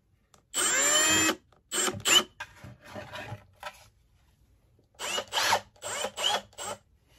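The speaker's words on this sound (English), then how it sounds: "can see the screw popping through there" A power drill drives a screw through a pedestal plate for a cloche in several short whirring bursts of rising and falling pitch, close and loud, with brief quiet gaps between.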